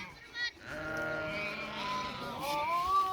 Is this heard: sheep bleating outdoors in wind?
yes